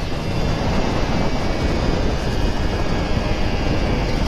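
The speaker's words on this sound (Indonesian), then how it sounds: "Anginnya gede banget." Strong wind roaring against a rider on a Kawasaki Ninja RR 150 motorcycle on an empty road, a steady, broadband rush that stays loud and unbroken throughout.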